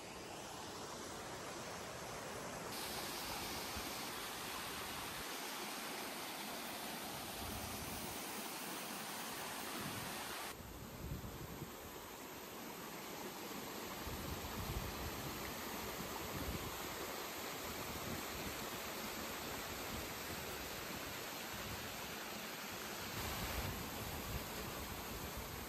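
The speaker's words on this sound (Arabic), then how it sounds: "احنا دلوقتي تحت الشلال بالظبط" Cascata di Sopino, a hidden waterfall near Limone sul Garda in Italy, roars steadily and loudly from directly underneath, a dense unbroken rush of falling water with no voices.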